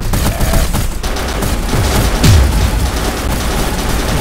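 Gunfire and explosions in a sniper video game, a dense continuous rumble of distant shots and booms with a whistling descending tone midway, steady and loud throughout.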